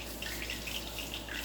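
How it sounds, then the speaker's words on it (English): Tap water runs steadily from a kitchen faucet, a soft continuous hiss with faint splashing, low in level and alone without talk. "Turn that water off, Miss Linda."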